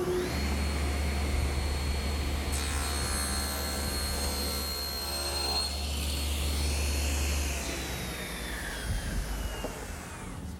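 A table saw whines steadily, first idling and then loading up as it rips through a wooden board for a Shaker washstand. The motor drone stays loud and continuous, and its pitch shifts as the blade bites into the wood and then runs free.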